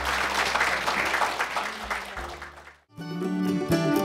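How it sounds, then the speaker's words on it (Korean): An audience at a Korean health talk concert on AIDS applauds steadily for a few seconds, then the clapping gives way to music. "세 분에게 박수 한번 부탁드릴까요?"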